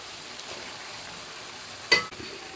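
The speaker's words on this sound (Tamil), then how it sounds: "தக்காளியும் போட்டு நல்லா வதக்கியாச்சு" Tomatoes and bitter gourd sauté in a pan for a mutton kheema, giving a faint, steady low sizzle with one sharp utensil clack partway through.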